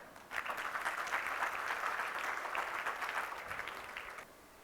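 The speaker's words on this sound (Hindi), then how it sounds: "सभा के लिए जोरदार तालियां।" Audience at a Happy Marriage talk session breaks into sustained applause, a dense even clatter of many hands clapping for about four seconds before tapering off.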